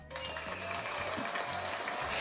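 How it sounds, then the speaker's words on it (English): A burst of applause from a crowd, steady dense clapping that fills the short moment at a fairly loud level without pause. "Deserve some applause."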